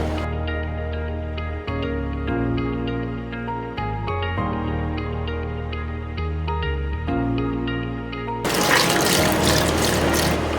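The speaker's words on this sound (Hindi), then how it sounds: "पालक को हमने अच्छी तरीके से वॉश करना है।" Steady music plays for most of the clip, then running water gushes in loudly near the end, a broad rushing splash as spinach is washed under the tap.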